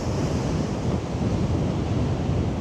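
Strong wind buffets the microphone at the North East coast during sea fishing, a steady broadband roar with surf washing beneath it, loud and continuous throughout with no talk.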